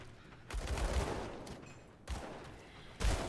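Gunfire from the video game Grim Dawn comes in three loud bursts of shooting, each starting sharply and then tailing off into a rumbling decay, with no voices.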